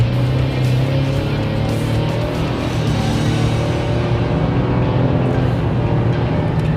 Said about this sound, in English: And that is your acceleration up to highway speed.